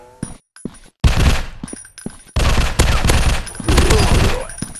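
Rapid bursts of gunfire from the zombie shooter game Zombies Fire Strike, with sharp single shots at first, then loud sustained automatic fusillades rattling close and continuous.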